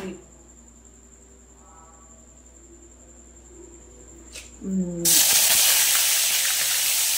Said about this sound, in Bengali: লঙ্কা ফোড়ন দিলাম।